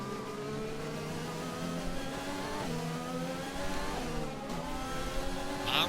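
An F1 race car engine in the F1 2020 video game, a steady high whine with rising and falling gear-change pitch sweeps, heard continuously at moderate level with no talk.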